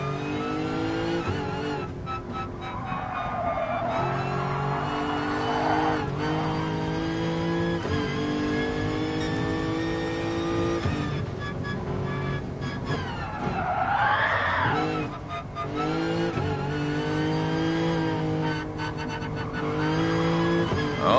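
In Gran Turismo Sport, a race car's engine revs hard and continuously while its tires squeal through long drifts, loud and close throughout.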